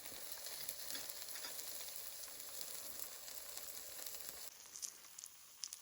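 A tuna melt sandwich with cheese frying on a skillet gives off a steady, even crackling sizzle that eases off toward the end, leaving a few sharp pops.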